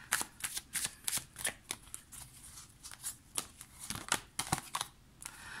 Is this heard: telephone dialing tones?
no